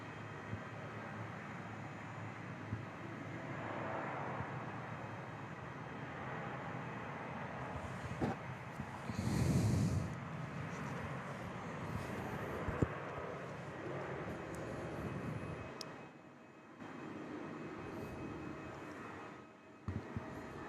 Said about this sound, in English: 737-800 lining up ahead of their departure over to Brisbane is Velocity 471, making an intersection departure via November.